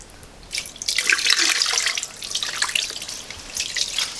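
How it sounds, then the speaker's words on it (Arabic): Water is poured into a pot of chicken, a bright splashing pour that builds, runs for a few seconds, briefly eases, then returns near the microphone with no talk over it. "ندخلو عليهم شوية الماء"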